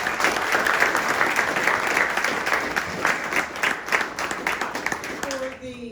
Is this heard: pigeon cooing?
no